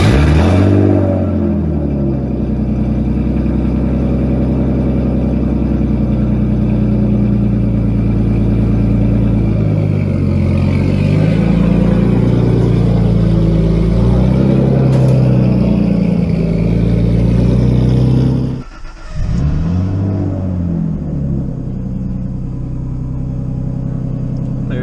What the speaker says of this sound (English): There's the cold start for you guys.